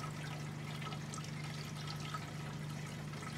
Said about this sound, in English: just very slowly pour it in